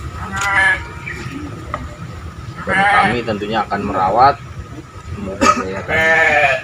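Goats from a city livestock-farming group in Bekasi bleat in short, wavering calls near the start and again toward the end, mixed in with someone speaking Indonesian over them.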